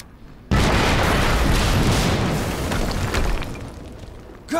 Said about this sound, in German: es gab gerade eine Explosion in der Nähe der Gewinnungsanlage